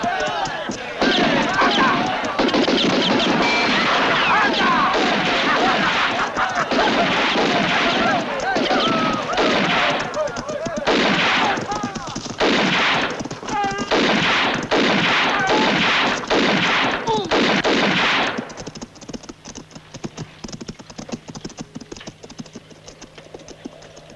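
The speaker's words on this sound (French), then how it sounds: "Bien tiré, monsieur Trinita, alors tu es un super champion" Gunshots crackle in a Terence Hill Trinity western scene, a dense rapid barrage of sharp reports that fill most of the clip before stopping abruptly, leaving quieter background sound.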